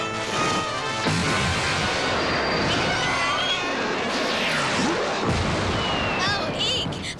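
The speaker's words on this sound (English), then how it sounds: "Oh, Eek. Fireworks." Cartoon fireworks in a park burst and crackle loudly and continuously, a dense barrage of bangs and whistling streaks layered with music and effects throughout.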